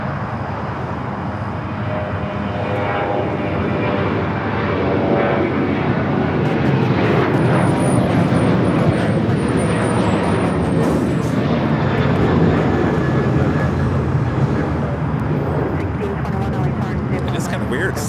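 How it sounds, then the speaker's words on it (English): American Airlines flight 3169 from Miami, Florida arrives at Los Angeles LAX, a steady loud jet engine roar sustained throughout with wind noise and a voice talking over it. "This is American Airlines 3169 coming in from Miami,"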